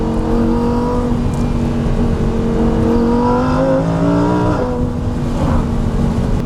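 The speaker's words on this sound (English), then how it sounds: "those downshifts are heaven" Supercar engine on winding backroads, a loud steady drone with pitch sliding up and dropping sharply as it shifts, heard from inside the car with constant road and wind roar and no talk.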